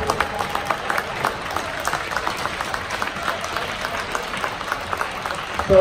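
Crowd applauding a team at a British para ice hockey playoff semi-final, steady scattered clapping with distinct individual claps over a hall ambience, sustained throughout at moderate loudness.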